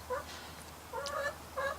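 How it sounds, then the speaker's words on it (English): A backyard chicken on a patio gives three short, fairly faint bursts of clucking and gobble-like calls, spaced apart over a quiet background hiss. "there's one of my chickens on the patio"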